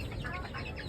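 Farm chickens, foreign breeds, cluck briefly in a quick, close burst of short throaty calls over a steady background hum.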